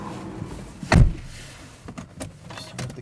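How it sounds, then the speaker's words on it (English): A single solid thud as the door of a 2010 Mercedes-Benz CLC180 coupe with a manual gearbox and grey half-leather interior shuts close by, followed by a few faint clicks and rustles. "Close the door."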